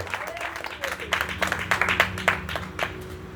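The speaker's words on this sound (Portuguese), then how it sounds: "dê uma salva de palmas bem forte para Jesus" A church congregation applauds with dense, rhythmic clapping that stays fairly loud and even throughout, with a voice faintly audible underneath.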